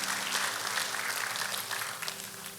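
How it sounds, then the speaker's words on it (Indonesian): A church congregation at a worship service applauds in a steady, dense wash of clapping that carries on for the whole stretch at moderate volume, with no voices standing out. "Tepuk tangan buat Tuhan Yesus, haleluya"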